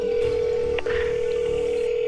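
A phone's dial tone hums as one steady, loud tone that holds unbroken from start to finish, with a brief faint click partway through.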